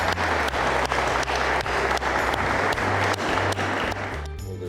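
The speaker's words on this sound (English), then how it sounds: "Gentlemen, accept the applause and appreciation of Rotary." Sustained applause from members gathered at a Rotary club meeting, a dense steady wash of many hands clapping at close range, with a low hum running underneath throughout and cutting off sharply near the end.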